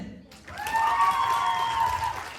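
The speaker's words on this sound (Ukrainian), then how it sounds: "Аплодисменты" Audience applause at a regional children's and youth folk art contest rises after a quiet start into a steady wash of clapping, with a thin sustained tone running over it.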